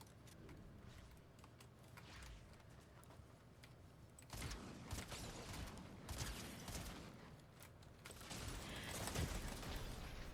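Gunfire in the Fortnite video game: a dense stretch of fast, sharp shots and impacts at moderate level, growing busier partway through, with game noise behind.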